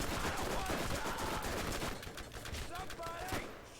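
Rapid gunfire from a pistol in the Borderlands video game fills the clip, a dense burst of loud shots with game effects layered over it, easing slightly toward the end.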